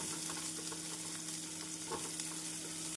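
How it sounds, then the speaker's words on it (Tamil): Steady, close sizzling of onions sautéing in hot oil in a pan, with a constant crackle and a faint hum underneath, no voices. "நாம் வெங்காயத்தை சேர்த்து ஒரு நிமிடம் நன்றாக வதக்க வேண்டும்"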